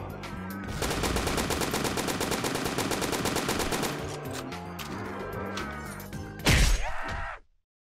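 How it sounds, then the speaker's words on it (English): Rapid automatic gunfire in a Roblox game rattles loud and continuous for several seconds, then thins to scattered shots before a heavy crash-like burst and an abrupt cutoff into silence. "He's trying to shoot me."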